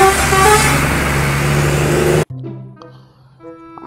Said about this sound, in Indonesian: Kali ini ada bus Doa Ibu teman-teman.